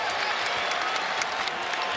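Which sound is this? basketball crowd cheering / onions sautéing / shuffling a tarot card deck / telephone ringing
basketball crowd cheering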